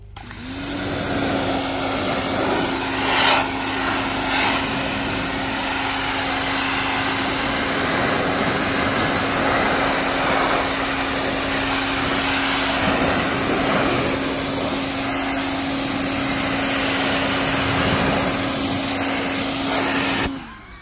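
A Greenworks 2100 psi electric power washer runs steadily with a 25-degree nozzle, a loud continuous motor whine and hissing spray lasting about twenty seconds before stopping.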